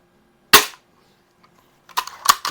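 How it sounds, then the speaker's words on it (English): A 1930s Daisy model 25 BB gun, tested after repairs, fires at a can: a sharp snap with a quick ring, then after a pause two more cracks in close succession, near and crisp. "we're just going to see how far we can get cutting it with approximately 50 shots there"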